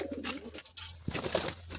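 Madrasi pigeons coo softly nearby at a pigeon sale, a low throaty burble with a brief flutter partway through.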